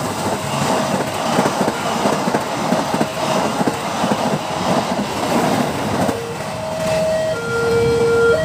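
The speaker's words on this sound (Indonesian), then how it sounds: "Keretanya sudah mau lewat Spider-Man." A toy Thomas train rolls past on its track, a steady rumbling clatter with rhythmic clicks, joined near the end by sustained whistle-like tones. No one talks over it.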